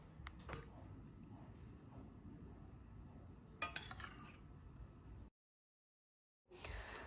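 Plates and cutlery clink softly while rice is served out for a home lunch of hilsa fish, egg curry, mung dal and kochur loti, faint scattered clatters with one brighter clatter, then brief silence before more rattling.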